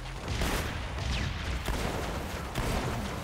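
Dense, noisy bursts of gunfire, including shotgun blasts, crackle continuously in the video game Halo Spartan Assault.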